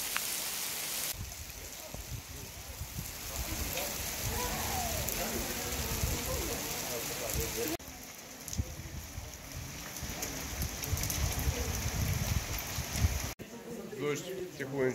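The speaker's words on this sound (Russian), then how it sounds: "Дождь потихонечку проходит" Steady rain patters on a surface throughout at Porto Montenegro marina, with voices murmuring underneath and a couple of abrupt shifts in the background.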